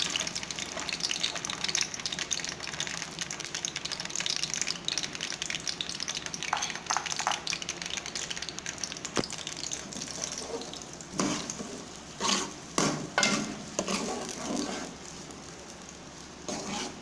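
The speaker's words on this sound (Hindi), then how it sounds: "घी हमारा गर्म हो गया है तो अभी हम इसमें प्याज डालेंगे।" Onions hit hot ghee for a chicken curry and fry with a soft, steady sizzle, quiet and close, with a few clinks and scrapes of a spoon toward the end and no talking.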